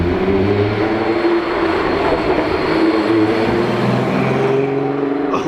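Car with a VR6 engine driving on its first run after the work, a steady loud drone with rumbling road noise throughout, nearby and with no talking.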